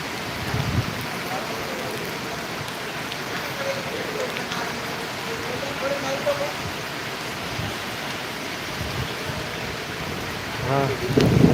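Heavy downpour at Gondal marketing yard roars steadily in a thick, even hiss, with occasional low rumbles and a louder burst of noise near the end.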